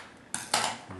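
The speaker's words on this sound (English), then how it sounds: "So the first thing I'm gonna do is cut the wick shorter" Scissors snip a candle wick shorter in a short, quiet burst of two close metallic clicks, with a faint rustle at the end.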